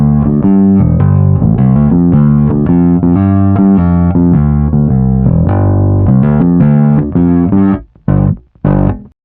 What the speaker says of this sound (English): Now let's switch to a normal P-bass and go for a low gain sound.